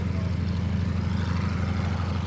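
A P-40 Warhawk fighter plane streaks past low at the Westmoreland County airshow, a loud steady propeller and engine roar filling the whole stretch without letup.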